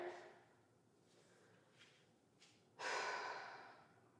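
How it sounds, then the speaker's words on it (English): Deep breaths taken in a yoga sun salutation, a few faint slow breaths followed by a fuller, longer exhale close by, quiet and without talk. "Couple of deep breaths here."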